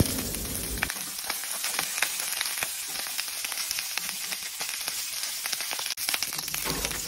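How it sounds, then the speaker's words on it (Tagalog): Boiled pork ribs sauté in a hot pan, a steady close sizzle and crackle of frying meat with scattered pops and stirring scrapes running throughout. "Ayun, igigisa na natin."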